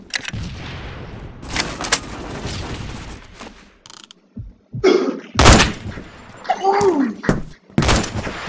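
Sniper rifle shots in a first-person shooter video game: several loud, sharp bangs with gaps between them and mechanical clicks, and a voice speaks now and then.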